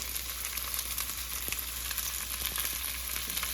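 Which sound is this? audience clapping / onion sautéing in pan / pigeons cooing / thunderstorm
onion sautéing in pan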